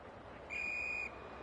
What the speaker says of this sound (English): The umpire whistles for a ball up.